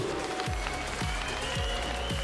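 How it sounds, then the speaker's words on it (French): Crowd applause at the ESWC 2016 CS:GO semifinal at Paris Games Week, a broad steady clatter under a thumping low beat that pulses roughly every half second through the whole stretch. "On peut les applaudir une dernière fois"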